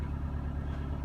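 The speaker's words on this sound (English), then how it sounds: "Very sorry for the tractor noise." Farm tractor running near a farm shed, a low, steady rumbling engine drone with a regular throb, continuous through the brief stretch with no voices.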